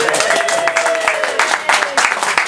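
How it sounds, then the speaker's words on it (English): A small audience at a beach comedy music show claps in uneven, loose bursts, fairly close, with a lingering tone running under the first half. "And everybody claps."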